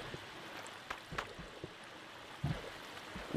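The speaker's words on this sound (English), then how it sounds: "Waterfall." River water flows steadily in the Minecraft video game, a soft continuous wash with small splashes from a waterfall, faint and without talk.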